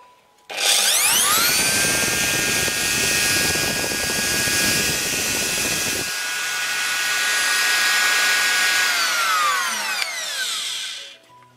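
A Bosch POF 1400 ACE Expert wood router switched on: the motor spins up to a loud, steady high-pitched whine and holds it for several seconds, with rougher handling noise at first, then winds down as it is released.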